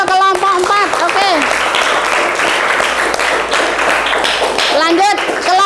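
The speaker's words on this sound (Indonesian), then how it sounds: "Kita beri aplaus untuk kelompok 4" Enthusiastic applause from a classroom audience after a group presentation, dense steady clapping throughout with voices cheering and talking over it.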